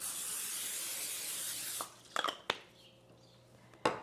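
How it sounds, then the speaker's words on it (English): A continuous hiss of cooking spray for about two seconds, then stops, followed by a few light clicks and clatters of the can and pan. "I'm gonna spray the pan first."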